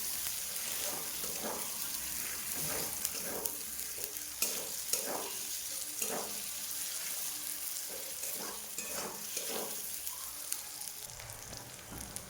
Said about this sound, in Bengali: ভালোভাবে তেলের মধ্যে আমি ভেজে নেব, যাতে আদা রসুনের কোনো কাঁচা গন্ধ না থাকে